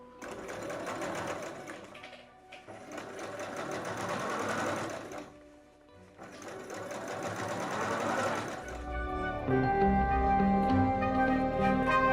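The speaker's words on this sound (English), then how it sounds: "So I'm going to sew this" A sewing machine stitches a pajama collar in steady whirring runs with two short pauses. It then shifts into a louder, more mechanical hum near the end, close and clear with no talking.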